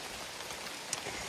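Steady rain falls along the Appalachian Trail, a dense, even hiss of drops on the surface with one brief louder patter, no voices.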